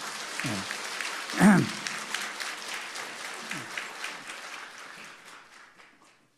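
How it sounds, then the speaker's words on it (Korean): A church congregation claps together during a Sunday worship service, a broad wash of applause carrying on for several seconds before fading out, with a few louder bumps and a voice briefly heard near the start. "감사합니다 하는 마음으로 우리 힘차게 한번 박수하겠습니다."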